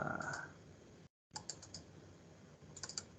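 Someone types on a computer keyboard in an office setting, making quiet, closely spaced clicks in small irregular bursts over a soft background hiss, with a brief dropout partway through.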